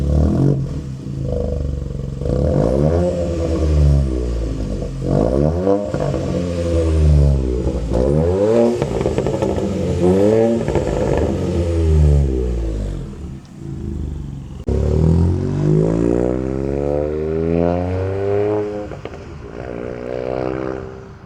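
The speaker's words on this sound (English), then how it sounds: "do you want to give it a rev and everything like that? We'll have a sound test" A modified 1.0-litre Ford Fiesta engine revs up repeatedly, loud and close, with rising and falling sweeps through a series of throttle blips and no talk.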